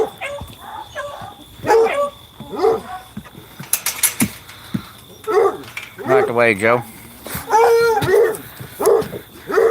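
A female dog barks and howls nearby in choppy yips and rising wails, mixed with someone talking.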